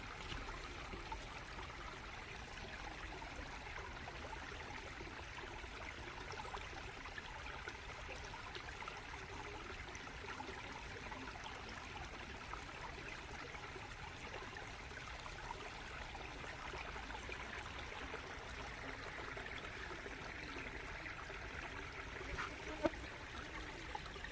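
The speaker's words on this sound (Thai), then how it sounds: "เสียงธรรมชาติเนาะเสียงน้ำน้ำตกครับ เสียงน้ำไหล" Water flowing in a stream or small forest waterfall, with a steady soft rush and trickle; faint, even and continuous throughout, with no talk.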